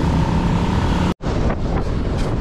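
Strong wind buffets a microphone while cycling on a national road, a loud continuous roar with one brief dropout partway through.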